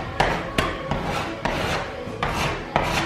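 A scraper rasps finishing wax off a shiplap wall in repeated strokes, each starting with a sharp catch and dragging into a rough scrape, about six passes, close and clear with no talk.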